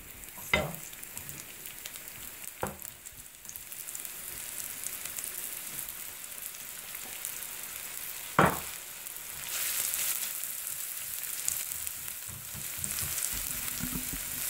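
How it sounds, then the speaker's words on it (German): Chopped onions frying in a pan for a Persian green bean rice dish, giving a steady soft sizzle with a few sharp clinks of a utensil against the pan. "Dann gebe ich die Zwiebeln hier dazu und brate ich die Zwiebeln."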